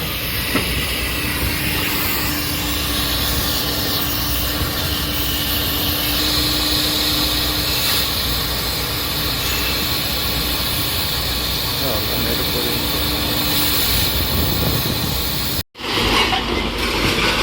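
A vehicle engine runs steadily and loudly while scrap iron is unloaded, with a continuous rumbling hiss and a voice talking over it, cutting out briefly near the end.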